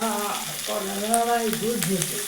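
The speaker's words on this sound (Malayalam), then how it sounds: "ഇത് സവോളയും വെളുത്തുള്ളിയും ഇഞ്ചിയും ഒക്കെ ഇട്ട് വഴറ്റി" Onion, garlic and ginger sautéing in a pan for a clam fry give a steady, close frying hiss that runs underneath a person speaking throughout.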